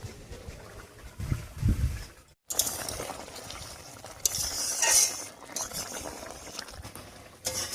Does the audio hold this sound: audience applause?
no